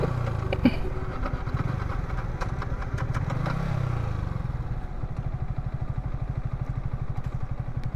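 A Yamaha R15 V3 motorcycle engine struggling to start, giving a steady, rapid mechanical chugging and clatter heard up close without letup.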